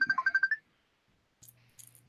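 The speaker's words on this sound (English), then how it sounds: "that your phone again, Mel?" A phone rings with a bright, repeating electronic ringtone pulsing in quick bursts for about half a second, then cuts off; after a pause, faint clicking and a low steady hum follow.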